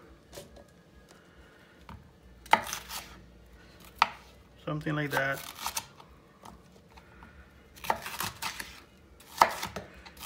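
A knife chops vegetables into big chunks for sofrito on a board in scattered bursts of quick thuds, with a brief spoken remark in between.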